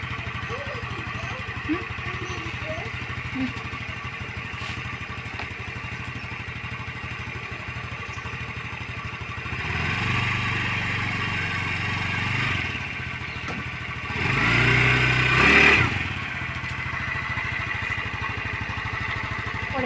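A motorbike engine runs steadily at idle, then revs up twice in short surges before settling back, heard nearby outdoors with no speech over it.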